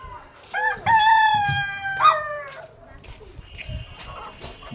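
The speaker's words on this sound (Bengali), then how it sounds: "মুরগির আর ডাকার আর শেষ নেই" A rooster crows loudly and close by in a long, drawn-out call, followed by shorter fowl calls and clucks, while people talk in the background.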